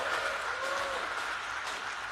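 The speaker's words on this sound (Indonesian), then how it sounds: "kita tepuk tangan buat Presiden" An audience at a mass subsidized-housing mortgage signing and key handover in Bogor Regency applauds the President of Indonesia, with steady, close clapping throughout and faint voices mixed in.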